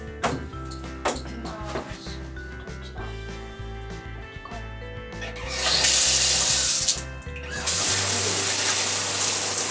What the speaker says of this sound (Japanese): よし、シャワー出すよ、